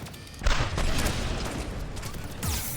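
A grenade explodes in Mass Effect 3 combat, a heavy boom followed by a sustained rumbling roar of debris and battle noise, loud and close.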